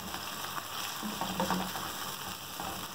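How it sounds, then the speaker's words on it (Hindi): A medium chopped onion fries in hot oil in a pot for mixed dal, a soft, steady sizzle with faint stirring scrapes throughout and no voices. "इसको हम गोल्डन फ्राई करेंगे।"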